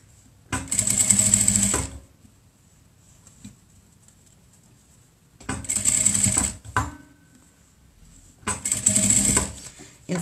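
A sewing machine topstitches a child's fabric protective mask over elastic, running in three loud, near bursts of about one and a half seconds each, separated by quiet pauses.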